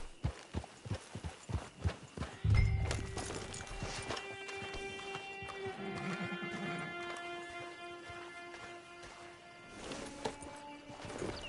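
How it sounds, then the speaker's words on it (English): A horse gallops in a console video game, rapid rhythmic hoofbeats at first, then a heavy thud and a neighing whinny over soft ambient game music with tonal layers, the hooves returning faintly toward the end. "Get your horse."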